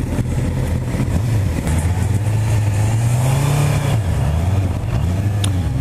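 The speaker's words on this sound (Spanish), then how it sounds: "aparte de que suena hermoso los cuatro cilindros, uff, suena delicioso" A Honda CB650R's four-cylinder engine revs hard and close, its pitch climbing and falling in repeated sweeps over a steady, loud drone, with no talking.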